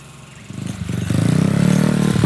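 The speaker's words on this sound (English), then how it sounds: "There's Trenton, out on his dirt bike." A child's dirt bike fitted with training wheels runs at a campsite, its engine steady at first, then rising in a louder, buzzing rev that holds strong to the end.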